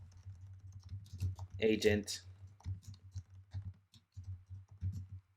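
Irregular bursts of quick, light clicks from a computer keyboard being typed on nearby, running underneath a voice talking about real estate ads.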